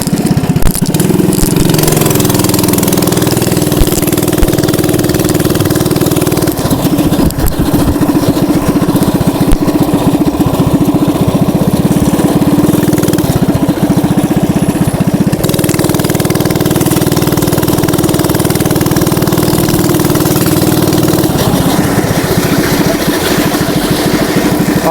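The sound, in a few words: mini bike engine running while riding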